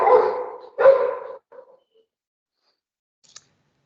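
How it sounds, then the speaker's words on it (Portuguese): A dog barks twice in close succession, loud and near, followed by a shorter softer yip and then quiet. "vamos tirar o som do cachorro"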